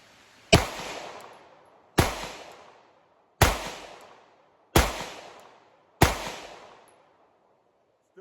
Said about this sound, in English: Still flinched on that first shot.